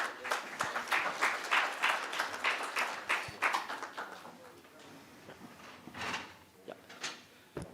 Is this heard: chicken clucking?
no